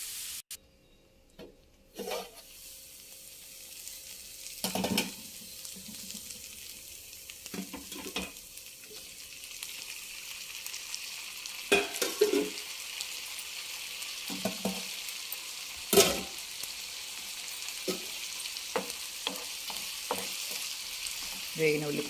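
Onions fry in a pan with a steady broadband sizzle, broken by repeated scraping stirs spaced every few seconds, close and moderately loud with no talking.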